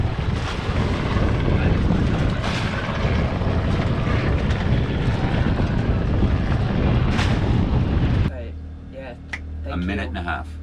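Coast Guard helicopter hovering low over a sailboat at sea, a loud close continuous roar with heavy wind buffeting that drops away sharply near the end, with voices around it.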